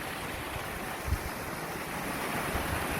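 A waterfall pours into plunge pools in Greece, a steady dense roar of rushing water with no breaks and no voices, fairly distant and even throughout.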